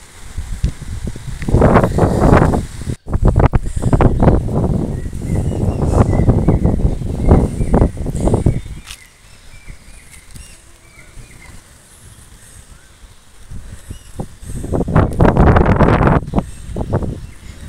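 Strong gusts of wind blowing outdoors under a clouded sky before rain, loud buffeting rumbles against the microphone in long surges, dropping to a quieter lull before another strong burst near the end.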